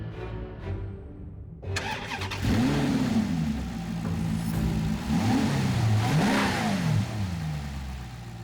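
A Maserati GranTurismo engine under a carbon bonnet starts with a sharp burst, then revs loudly in several rising and falling sweeps over a steady rumble, close by with no talking.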